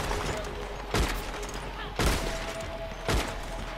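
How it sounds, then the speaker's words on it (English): Gunfire in the Red Dead Redemption 2 video game: three sharp, booming shots spaced about a second apart, each with a short decaying tail, over a dense background of game ambience. "Oh, that's because there is gunshots."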